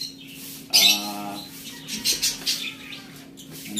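Pet lovebirds and cockatiels give sharp chirps, a brief loud burst followed by several shorter tweets, against a quiet room with a faint steady hum.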